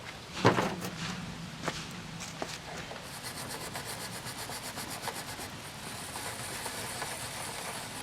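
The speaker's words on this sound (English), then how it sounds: "let's first clean the piston off" Steady rubbing and wiping sounds of a rag working over the piston of a 196cc Lawnboy roadside mower engine, fairly quiet and close, with a few brief scrapes and no talking.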